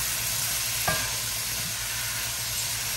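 Shrimp frying in butter in a pan, a dense continuous sizzle close up with one brief knock of a utensil partway through.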